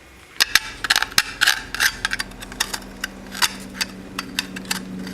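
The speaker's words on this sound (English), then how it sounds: "take a file and just gently brush off those rough edges" Metal file scraping the rough edges of a drilled hole in a guitar pedal enclosure, a series of short close rasping strokes in an irregular rhythm.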